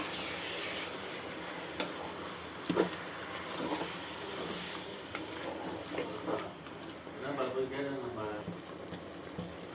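Coconut and tomato paste sautéing in a pan for a Tamil goat offal curry, with steady scraping and stirring rasps and soft sizzling, close and moderately loud, with talking over it.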